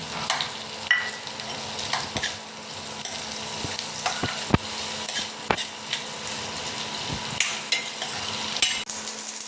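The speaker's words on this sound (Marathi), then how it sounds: "आता उभा पातळ चिरलेला कांदा घालून परतून घ्यायचा." Thinly sliced onion sizzles in a pan while it is stirred for a vermicelli upma, with steady frying hiss and repeated sharp scrapes and clinks of the utensil, close and fairly loud, no voices.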